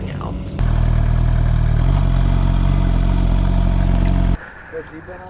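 A motorcycle engine, in a group of Kawasaki Z900s pulling out of a parking lot, roars loud and steady from close by for several seconds. It then cuts off abruptly, leaving quieter ambient sound.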